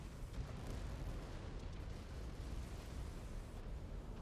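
Weapon fire and explosions in the MechWarrior 5: Clans video game, a dense continuous rumbling barrage of blasts and booms, faint and distant-sounding, with no talk.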